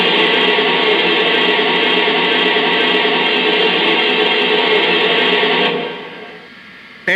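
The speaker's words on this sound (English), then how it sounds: "Now let's check out the cylinder steam release sound." A loud, steady rush of hissing cylinder steam release from a Lionel 2-8-2 Heavy Mikado model steam locomotive fills the clip, then cuts off abruptly near the end, with a brief mechanical clank at the close.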